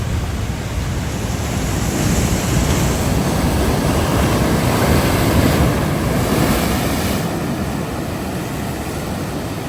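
Turbulent ocean surf at Makena Beach on Maui, a continuous loud roar of breaking waves with wind buffeting the microphone and no voices.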